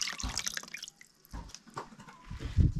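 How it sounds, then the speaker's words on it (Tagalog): Water boils in a cooking pot as something is added, with bubbling, plops and splashy liquid sounds in uneven bursts, close up and fairly quiet. "Lalagay na natin ito sa sa kaldero dahil kumukulo na yung tubig."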